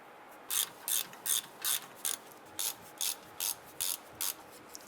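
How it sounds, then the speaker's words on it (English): A ratchet clicks in about ten quick, evenly spaced bursts while it tightens caliper bracket bolts on the rear brakes of a 2002-2008 Dodge Ram 1500, close and alone against a quiet background. "Let's go ahead and torque down our caliper bracket bolts to 100 foot-pounds."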